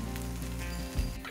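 Green banana kofta balls fry in hot oil, giving a steady, close crackling sizzle that ends in a brief soft clunk as they are turned.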